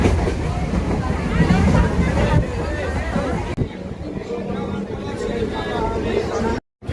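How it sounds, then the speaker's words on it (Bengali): A train rumbles past with a steady rolling roar and faint clatter under a girl's chatter and background bustle, the noise cutting off abruptly near the end. "ট্রেন চলে যাচ্ছে"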